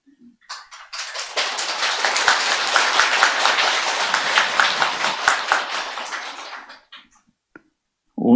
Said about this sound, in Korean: 박수를 다 보내시네요